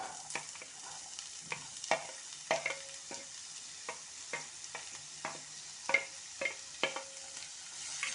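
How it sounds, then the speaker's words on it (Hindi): Chopped onion fries in a pan of hot oil for stuffed pointed gourd, a soft steady sizzle broken by irregular scraping stirs of a spoon against the pan, quiet and close. "और प्याज को गुलाबी होने तक भून लेते हैं।"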